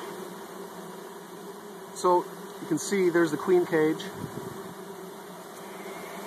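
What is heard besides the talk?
honey bees buzzing around disturbed beehive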